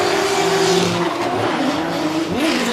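A drift car at Formula Drift Japan, a JZX-chassis Cresta, screams at full throttle with steady engine roar and tire squeal while skidding off course down a hill, loud and close with shifting pitch throughout.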